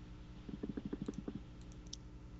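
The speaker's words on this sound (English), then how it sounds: "The clicking's really loud." During a Minecraft game, a rapid run of about a dozen mouse clicks sounds faint against a steady background hum, with a few higher ticks afterward.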